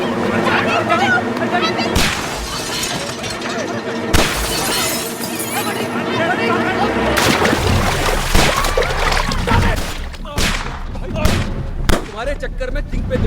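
Gunshots fired in a chaotic movie scene, several sharp loud bangs spaced unevenly amid shattering crashes and heavy background din, with voices shouting.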